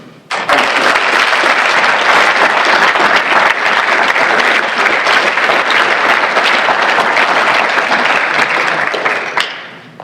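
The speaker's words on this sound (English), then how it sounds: "Let's give another big round of applause to the U.S. Army" A large audience at an award presentation claps loudly and continuously for about nine seconds, a dense roar of applause that stops abruptly.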